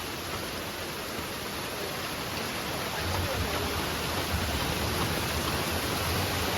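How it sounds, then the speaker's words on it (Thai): Heavy rain pouring steadily on a leaking roof, a dense, even hiss filling the whole clip at moderate level, with a low rumble growing slightly stronger partway through. "ไม่ได้ยินผมต้องขออภัยนะ เพราะว่าฝนตกแรงมากนะครับ"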